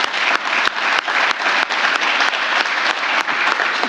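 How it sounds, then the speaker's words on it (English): Sustained loud applause from an awards ceremony audience honoring a secretary, a dense, even wash of clapping with a few sharper individual claps standing out, no talking over it. "So let's give him another round of applause for what he did."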